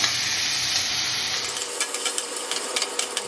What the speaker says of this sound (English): I'm going to saute some garlic